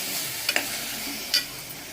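Minced mutton being stirred in a hot pan with turmeric, a steady soft sizzle with a few sharp scraping clinks of the spoon against the pan.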